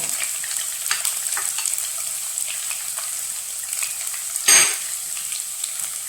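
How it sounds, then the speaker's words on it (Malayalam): Mustard seeds and thinly sliced garlic sizzle steadily in hot oil, a close, constant hiss with faint crackles and one brief louder burst near the end. "നന്നായി ചൂടായി ഇതിനകത്തേക്ക് ഇത്തിരി കടുക് ചേർത്ത് കൊടുക്കാം. അതിലേക്ക് വെളുത്തുള്ളി ചേർത്ത് കൊടുക്കാം."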